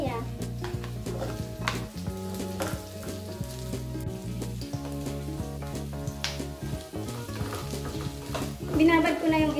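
Ginger sizzles and is stirred in a hot pan, a soft, steady frying hiss under music, with a brief clatter near the end.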